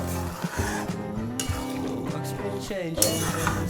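A lid is set on a cooking pot of boiling potatoes and carrots for a fish curry, making a light metallic clink near the start and another at the end, with low kitchen clatter and faint talk.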